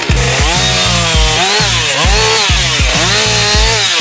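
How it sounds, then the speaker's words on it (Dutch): A chainsaw runs loud and close, its engine surging and dropping in repeated revving bursts with a harsh, buzzing whine throughout. "Dus lekker spelen met de kettingzaag hoort erbij."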